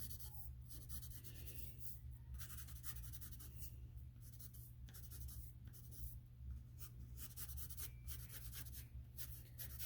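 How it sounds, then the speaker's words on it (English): A pencil sketches lines on paper in soft, faint scratchy strokes, a steady series of short rubs close up, with no talking. "I'm going to go through and just sketch out my lines a little bit more around the main part of my eye."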